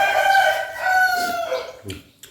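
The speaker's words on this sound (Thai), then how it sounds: "ไก่ขัน" A rooster crows close by in a single long call with steady harmonic tones, followed by brief faint clatter, heard outdoors at a rural Lao home near a garden.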